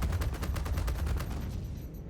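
Rapid bursts of ship cannon fire from four size 2 cannons in the Star Citizen space game, a fast repeating volley of loud sharp shots that trails off toward the end.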